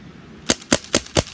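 A Benjamin Wildfire PCP air rifle fires five sharp, close pops in quick, even succession, each a crisp crack with a brief tail.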